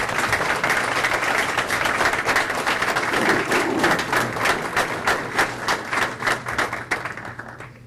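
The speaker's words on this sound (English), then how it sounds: "Give her a round of applause." An audience at a village board meeting applauds steadily, a dense patter of many hands clapping at once that thins out toward the end into a few scattered claps.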